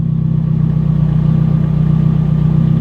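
Nissan Silvia S15 engine, fully built, idling roughly at close range, a steady low throbbing hum with slight uneven pulsing and faint clatter throughout.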